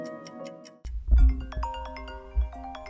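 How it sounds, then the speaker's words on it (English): A phone timer alarm rings in a quiet indoor room, a bright repeating electronic melody that starts abruptly partway through and carries on with steady tonal beeps and chimes, moderately loud and close. "And that's my alarm"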